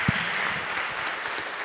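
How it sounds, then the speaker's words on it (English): Steady applause from an audience at a Library of Congress talk fills the whole moment, even and sustained, with no voices rising above it. "Round of applause for Dr. Dwayne Edwards."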